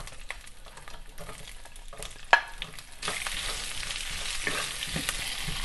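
Onions frying in hot oil with mustard and cumin seeds for a potato eggplant stir fry, a soft sizzle that grows louder and fuller partway through, with a brief clink of stirring.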